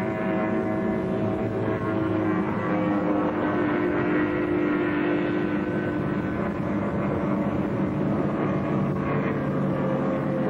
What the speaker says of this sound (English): And if Mike can keep that boat going round these tight corners, I think he's going to hold off Richard Wood